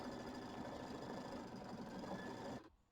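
A Kimberbell embroidery machine stitches the quilting on a small mini quilt center block, giving a steady, fast mechanical whirring hum with even needle rhythm, close but quiet, running alone until it cuts off near the end.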